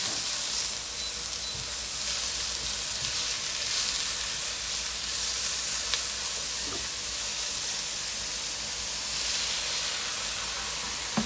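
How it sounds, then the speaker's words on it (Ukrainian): Vegetables sizzle and hiss loudly in a hot pan for a breakfast dish, with a steady, dense frying roar throughout and a few faint stirring scrapes beneath it, no voices. "помішаю наші овочі"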